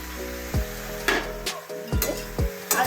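Shrimp and bottle gourd cook in a pan while a spatula stirs them, with sharp, evenly spaced knocks against the pan over a faint, steady sizzle close by.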